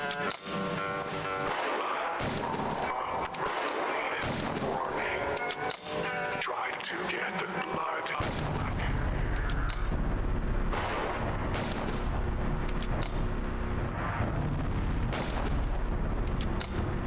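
Gunfire rattles at the player in a horror video game, rapid bursts and booms close by that grow heavier and denser in the second half, over game sounds and a speaking voice.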